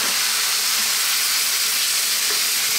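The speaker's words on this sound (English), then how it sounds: "I'm going to add in that tomato paste, which is about 135" Tomato paste and chopped plum tomatoes sizzle in a hot pan with a loud, steady frying hiss that runs unbroken throughout.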